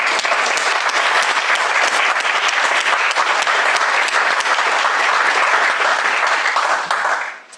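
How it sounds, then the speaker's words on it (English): A graduation audience at a low-residency MFA ceremony gives staff a sustained round of applause, dense and steady for about seven seconds before quickly dying away. "Please give them a round of applause."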